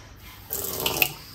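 Kitchen sink tap from Castorama turned on, water starting to run steadily after a quiet moment, fairly close and moderately loud, with no talking.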